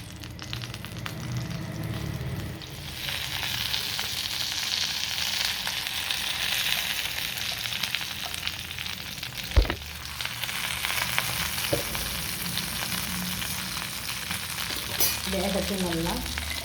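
Kerala-style mackerel frying in a covered pan, a continuous hissing sizzle that swells after a few seconds, with one sharp knock near the middle and light clatter toward the end, close and steady.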